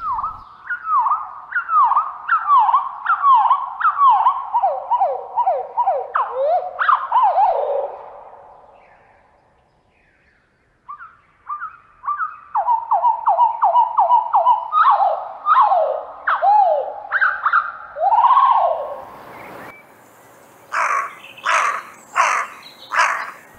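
Birdsong played back at a quarter of its normal speed, heard as long runs of drawn-out, sweeping descending notes in a steady rhythm, a brief pause midway, then more slurred phrases ending in a few sharper calls.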